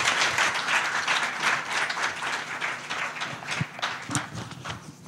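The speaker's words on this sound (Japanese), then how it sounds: "今日の皆さんパネルそれからゲストの方に温かい拍手をいただければと思います。" An audience gives warm applause to the panel and guests at the close of a discussion on Sino-Russian relations, sustained clapping that thins out toward the end with a few louder individual claps.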